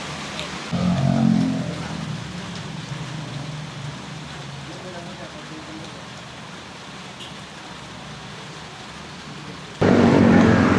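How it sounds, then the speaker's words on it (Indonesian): Rain pouring outside a roadside minimarket on the Puncak route between Bandung and Bogor, a broad continuous hiss with a motor rumbling past early on, then the downpour swells louder at the end. "Semoga hujannya cepat reda jadi kita bisa lanjut lagi perjalanan kita."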